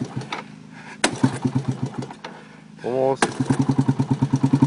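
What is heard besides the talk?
engine of a homemade vehicle firing up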